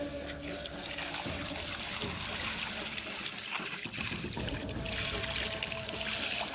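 Water poured from a pot onto a freshly built concrete drain for curing, a steady close splashing and trickling stream that runs continuously throughout.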